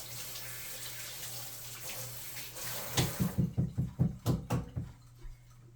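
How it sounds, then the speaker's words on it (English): A tap runs steadily over a spatula in a kitchen sink while baking a pineapple sheet cake, then gives way to a quick, close run of about eight rhythmic knocks against the sink. "I'm gonna rinse my spatula off real quick"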